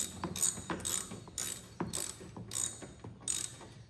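A ratchet tightens bolts on a Cub Cadet 1440 tractor with a repeated whirring click. About six evenly spaced pulls are heard, each a bright burst of ratcheting, close by and fairly quiet, with no talking.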